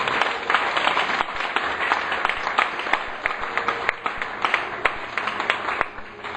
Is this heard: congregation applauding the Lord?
yes